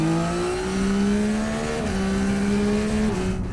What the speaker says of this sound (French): Ah là là, c'est agréable ce moteur